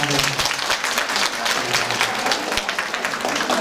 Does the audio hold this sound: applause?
yes